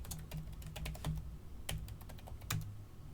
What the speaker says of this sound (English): type in admin and the password